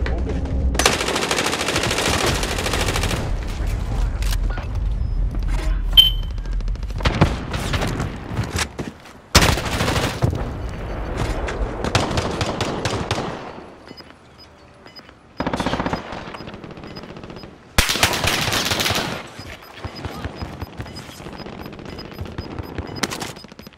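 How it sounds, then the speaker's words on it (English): Gunfire in Call of Duty: Modern Warfare comes as repeated loud automatic bursts separated by brief lulls, with heavier booming shots and a quiet stretch in the middle. "No, I just got shot at."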